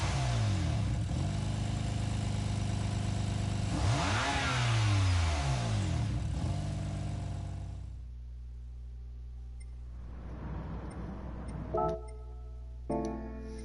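A track car's engine revs hard several times, loud and close, then drops to a low steady idle after about eight seconds, with a few short tones and clicks near the end and no talking.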